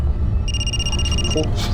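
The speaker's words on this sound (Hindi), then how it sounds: "फोन आ रहा है हमारा," A telephone rings once in a short electronic trill over a steady loud background rumble in a crime drama scene, lasting about a second.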